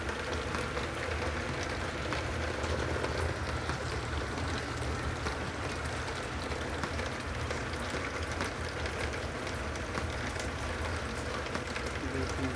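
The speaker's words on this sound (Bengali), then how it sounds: "খুব বৃষ্টি" A steady downpour of heavy rain in Jeddah hisses continuously on surfaces, a broad unbroken wash with a faint voice now and then underneath.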